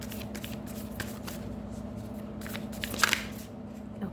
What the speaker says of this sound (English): let me pull out one oracle card from this deck.